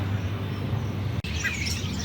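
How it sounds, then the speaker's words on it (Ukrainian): A flock of starlings chirps and chatters outdoors in Ukraine, their bright calls fairly soft against a constant low background rumble and growing busier after a brief break. "Яка краса, щось у нас тут шпаки."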